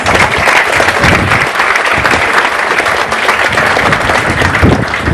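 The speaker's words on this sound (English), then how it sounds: "Please give him a round of applause." Dense, steady audience applause fills a Saba Day ceremony for the whole stretch, loud and close with no break.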